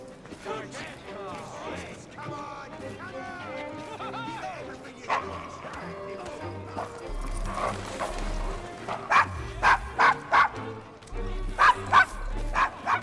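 A dog in Assassin's Creed Syndicate yips, barks and whimpers in short, rapid bursts, moderately close, under game music and characters talking.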